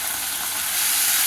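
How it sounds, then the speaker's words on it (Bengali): Onion, ginger and garlic paste sizzles in a hot kadai pan while prawn curry is being cooked, a short steady hiss of frying that grows slightly louder. "আমি এবার আমার কড়া থাকে পেঁয়াজ আদা রসুনের একটা পেস্ট দেব।"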